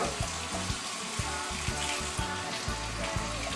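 Tap water runs steadily in a home kitchen while chili is being prepared, a constant splashing hiss with repeated low knocks and clunks of items being handled under the stream.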